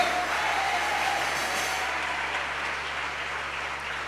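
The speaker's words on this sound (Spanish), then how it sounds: "Alguien puede aplaudir a Dios en su casa" A church congregation applauds steadily for about four seconds, a dense, even wash of clapping with no talk over it.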